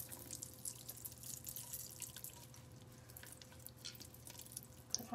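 Water dripping and trickling steadily from wrung-out cooked spaghetti squash in a kitchen, soft and close over a faint steady hum.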